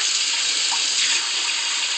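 Cold water streams from a sink faucet, a steady bright rushing hiss held at an even level for the whole stretch, close and alone with no voices.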